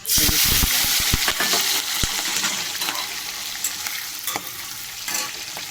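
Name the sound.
prawns frying in hot oil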